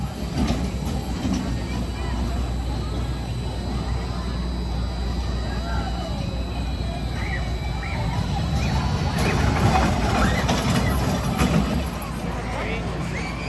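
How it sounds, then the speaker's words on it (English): An amusement park train ride at Emerald Park in Ireland rumbles past with a steady low rolling drone and faint wheel clatter, while people talk and a crowd murmurs nearby. "The train ride."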